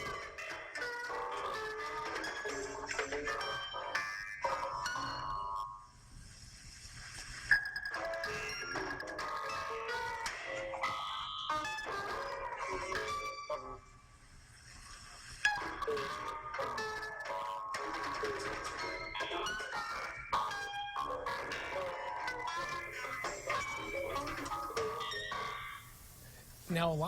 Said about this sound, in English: they used a sound synthesizer to produce sequences that are then recorded